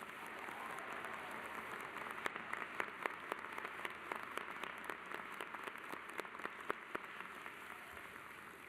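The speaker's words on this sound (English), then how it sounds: "Let's give them a round of applause." Audience applause for the musicians at a university commencement ceremony in a large arena, a steady wash of clapping from many hands that holds at an even level throughout, with a few sharper individual claps standing out.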